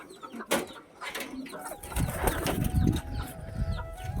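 Pigeons let out of a loft: a sharp burst of wing flapping, then soft cooing and scattered calls as the birds move about close by, with faint background hum.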